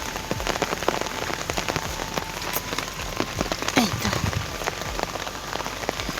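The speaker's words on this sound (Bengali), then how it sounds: "আমাদের এদিকে এতই বৃষ্টি হয়েছে যে সব জলে ভর্তি হয়ে গেছে" Steady heavy rain pours down in a village, a dense close hiss of drops pattering on surfaces throughout, with a person briefly speaking over it.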